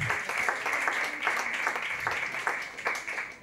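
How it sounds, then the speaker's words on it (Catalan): Applause from a comedy club crowd during a stand-up monologue contest, steady clapping for a few seconds at moderate volume with little else over it. "Aquest aplaudiment, aquest aplaudiment pel Gúmer."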